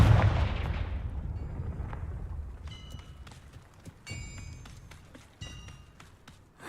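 A Confringo spell blast in the Hogwarts Legacy video game opens with a heavy booming explosion that rumbles and fades. A few sharper crackling impacts and clinks follow, then a final burst at the end.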